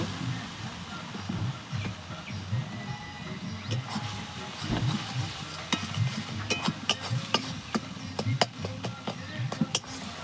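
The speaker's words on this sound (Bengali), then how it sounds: "আমরা একটু নেড়ে নেব, ভালো করে মশলাটা কষিয়ে নেব" Turmeric and chili powder masala being stirred and fried in a pan for doi katla, with soft scraping strokes and a low sizzle running throughout, plus scattered sharp clicks near the end.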